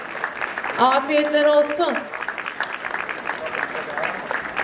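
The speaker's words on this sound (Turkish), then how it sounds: "Kocaman bir alkış alabilir miyiz acaba?" Wedding guests clapping in a hall, a sustained dense patter of applause that continues under a voice speaking briefly near the start.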